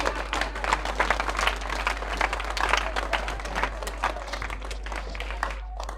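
An audience at a Kashmir Day gathering in Kabirwala, Khanewal applauds a speaker with a steady stream of dense clapping over a low, constant hum, lasting several seconds before fading out.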